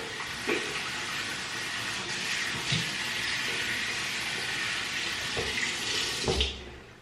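Water runs from a tap into a bathroom sink beside a mirror, a steady close splashing stream with a few clunks and knocks of handling scattered through it before it cuts off near the end.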